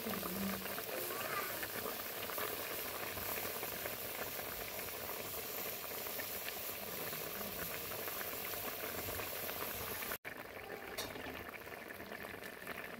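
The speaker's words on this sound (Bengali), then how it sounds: "আমার তরকারি বলক এসে পড়ছে।" Curry comes to a boil in a pot on a village kitchen fire, a steady low bubbling and hiss that continues evenly throughout at moderate distance, with a brief break near the end.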